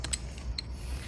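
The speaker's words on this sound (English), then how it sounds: "socket wrench, and I'm gonna stick it in there and remove it" A socket wrench ratchets on a front wheel of a ride-on toy car, giving a few close, dry mechanical clicks and scrapes in a quiet room.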